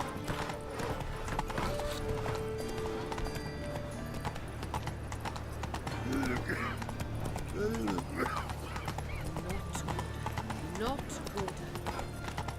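Roach, a horse in The Witcher 3, trots with a steady, continuous clip-clop of hooves and a brief whinny partway through. Someone speaks briefly over the hoofbeats.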